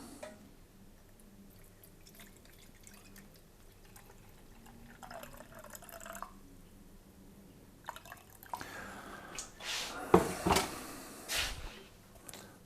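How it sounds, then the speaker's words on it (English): Water pours into a bowl set on a kitchen scale while deep-fried panzerotti dough is prepared, starting faint and trickling, then building to a louder splashing, dripping stream near the end. "I'm going to use 300 grams of water, or 300 milliliters of water, same thing. So I'm going to pour in"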